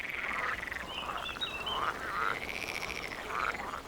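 Grass frogs croaking in shallow water at breeding time, a dense chorus of repeated rasping calls that overlap continuously, close and steady, with no voices.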